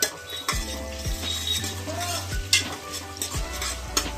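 Onions and green chillies frying in a pan give a steady sizzle beneath repeated close scrapes and clinks of a metal spoon stirring the pan, with no talking.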